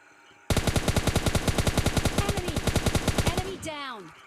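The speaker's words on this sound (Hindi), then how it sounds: "तभी एक बोट आया और वो फायर करने लगा।" Rapid automatic gunfire from a bot in PUBG Mobile Lite: a loud, close, sustained burst of about thirty evenly spaced shots lasting three seconds, followed by descending whooshing game effects.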